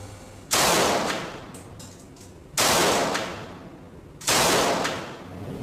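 Kalashnikov AK-47 assault rifle fired after nearly an hour in a freezer at temperatures down to minus 50 degrees Celsius; three loud, sharp shots spaced about two seconds apart, each with a long decaying echo.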